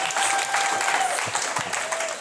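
Audience applause fills a stand-up comedy show, a dense, steady wash of clapping that holds strong throughout with no talking over it.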